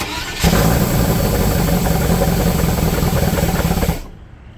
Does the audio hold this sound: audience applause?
no